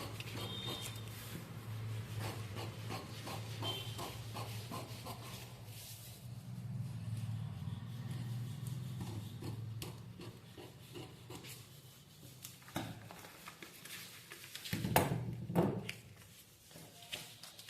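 Scissors cutting through blouse fabric for a katori blouse: a long, quiet, close stretch of steady rasping snips and fabric rubbing, swelling into a few louder cuts near the end.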